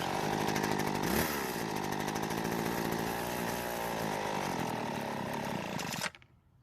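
A gas hedge trimmer engine runs loud and buzzing at steady high revs near the microphone, then abruptly cuts out and dies, leaving near silence.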